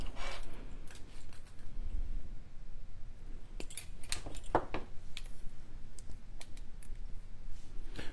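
Snips cutting lengths of 22 gauge jewelry wire for earrings, heard as several short, crisp clicks and snaps at close range over a steady background hiss.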